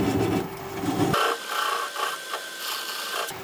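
A standard grind gouge cuts a small wood piece spinning on a lathe slowed to about 400 RPM. A dense rasping cut runs for about a second, then gives way to a lighter, steady whirring and scraping with a faint hum.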